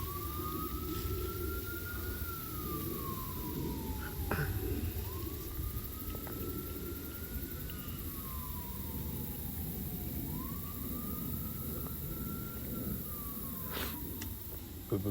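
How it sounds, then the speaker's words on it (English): An emergency siren wails in three slow rising-and-falling cycles, steady and fairly close, over a low traffic rumble. "And then these sirens started up, and then they just drove by me."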